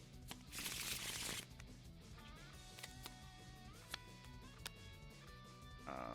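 A deck of playing cards for a superhero deck-building board game is shuffled up close in one quick riffle burst, followed by quiet card handling with light taps and clicks.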